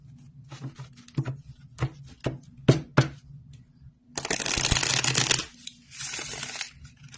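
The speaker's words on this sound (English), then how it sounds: "The shuffle was very smooth." Card shuffling: a run of sharp riffling snaps, then a long dense burst of rapid flutter as the cards bridge and cascade together, close and fairly loud.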